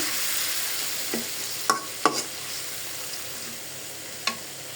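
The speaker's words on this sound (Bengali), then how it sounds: "আমি শুটকিটা কষানি দিয়ে দিলাম" Dried fish (shutki) sautés quietly in a pan under a steady low sizzle, broken by a few sharp scrapes and knocks of a spatula against the pan.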